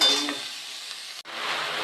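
Greens hit a pan already frying with salt and turmeric, giving a soft steady sizzle with faint stirring, briefly dipping to near silence before the hiss resumes, quiet and without voices.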